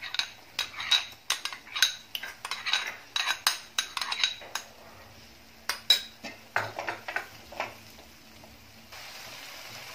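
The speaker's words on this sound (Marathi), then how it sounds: "छान असं दही फेटून घ्यायचं" A spoon beats thick curd (dahi) in a bowl, rapid rhythmic clinks and scrapes in close bursts that pause briefly and then resume, with no voices.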